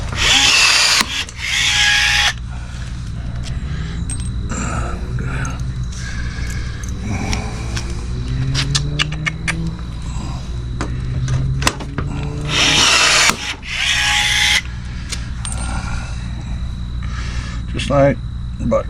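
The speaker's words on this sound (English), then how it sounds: "And we'll just rivet that guy back in." A rivet gun drives rivets into an awning fabric rail in short repeated bursts of mechanical whirring and snapping, close and loud, with people talking between the bursts.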